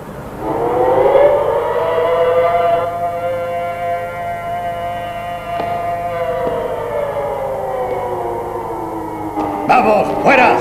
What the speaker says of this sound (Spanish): Haga sonar la sirena.